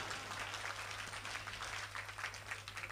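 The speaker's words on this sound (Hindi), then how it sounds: "ताली वाली बजा दो यार जरा" Audience applause fills a Kavi Sammelan poetry gathering in Deshnoke, a steady wash of many hands clapping throughout, dense and continuous with faint murmurs beneath.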